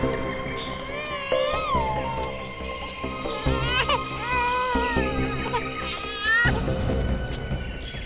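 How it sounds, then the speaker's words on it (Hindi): An infant cries in wavering, sobbing bursts near dense bushes in a cremation ground, continuing over several seconds amid background noise. "उस तरफ से बच्चे के रोने की आवाज आ रही है"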